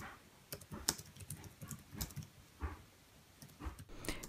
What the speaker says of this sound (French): On va écouter le bruit du clavier.